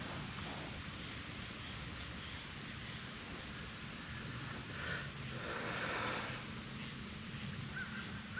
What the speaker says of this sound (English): It ain't raining too bad.